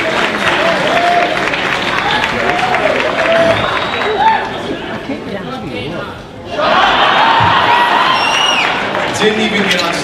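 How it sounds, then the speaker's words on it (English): A convention crowd at a horror fan event applauds and cheers with chatter and whoops mixed in, loud and close; the noise dips briefly near the middle before surging back, and talk runs through it. "The applause, they love you."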